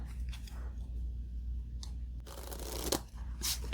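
A standard deck of playing cards gets a quick, close shuffle in a quiet room: crisp riffling bursts and papery flutters, with soft shuffling between them and a sharper snap near the end.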